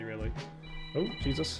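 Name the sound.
phone alarm ringing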